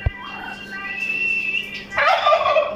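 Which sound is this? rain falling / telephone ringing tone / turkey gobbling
turkey gobbling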